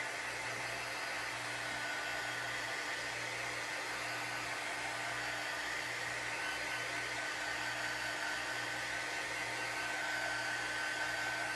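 A hair dryer blowing on a craft transfer to dry the underside before pasting, a steady, loud, close whooshing roar with a constant hum that runs unbroken throughout, with no voices.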